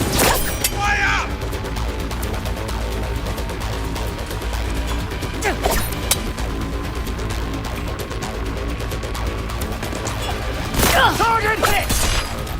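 Gunfire in a Cyberpunk 2077 firefight rings out in sharp bursts over dense game music and noise, with loud cracks and crashes near the start, around six seconds and again near eleven seconds.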